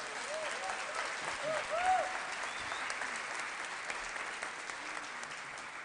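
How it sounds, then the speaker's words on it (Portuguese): A church congregation at a missions service applauds a couple called forward, steady crowd clapping heard from a distance throughout, with faint voices and chatter underneath. "Você pode dar uma salva de palmas por esse casal"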